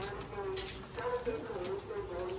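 Pigeons kept on a Punjabi rooftop coo in low, continuous rolling calls at moderate distance, with faint background voices and some noise.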